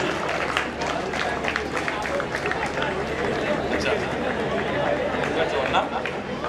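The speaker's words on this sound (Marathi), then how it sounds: "जरा जोरदार टाळ्या वाजवा" A crowd applauds after a match in a local tournament final, producing a steady wash of claps that keeps going throughout, with crowd noise and some voices underneath.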